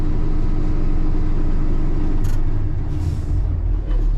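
A tanker truck parked and running, its engine a loud steady rumble, then a brief burst of air hiss as the brake is applied, with the engine note dropping and rumbling lower afterwards.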